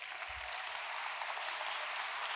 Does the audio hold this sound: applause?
yes